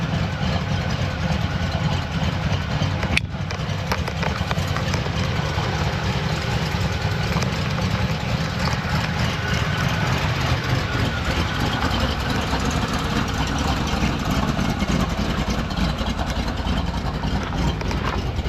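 A 1969 GMC truck engine idles steadily with a low, rumbling drone that stays even throughout, close and fairly loud, with one brief click early on.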